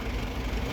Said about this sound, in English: Get in the backhoe to push the tractor.